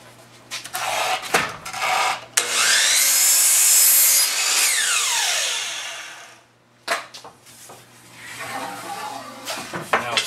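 Miter saw making a light quarter-inch trim cut off the end of a wooden board for a toddler bed, a loud whining burst that rises, holds for a few seconds, then spins down, with workshop handling noises before and after.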